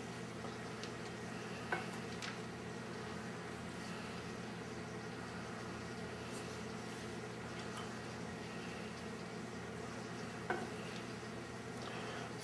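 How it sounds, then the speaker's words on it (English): Nuts are stirred into rice pilaf in a pan, a soft continuous sizzle with faint scraping and a couple of light clicks from the utensil, no talking. "we're going to mix them into the rice pilaf"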